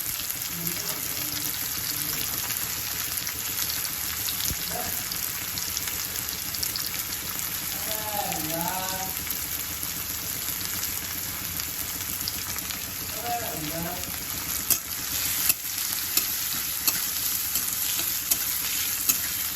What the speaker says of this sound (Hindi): इसमें डाल दे रहे हैं प्याज। मैंने 2 मीडियम साइज के प्याज चॉप किए हैं।